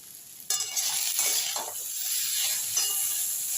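Figs frying in a pan with ground spices, a little mustard paste and sugar, stirred steadily: a continuous bright sizzle with scraping and clinking stir strokes, close and fairly loud, and no voices.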